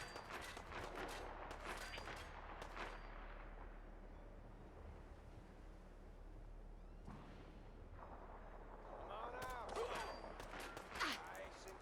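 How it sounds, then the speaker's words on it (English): Gunfire in the video game Fallout 4, a burst of several sharp shots at the start followed by quieter rumbling, then more shots and blasts near the end; faint and distant-sounding overall. "I can't see who's shooting right now"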